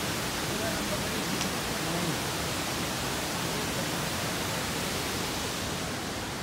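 Rushing water at the Naubahini waterfall makes a steady, even broadband roar that fills the whole stretch, with faint voices barely audible beneath it.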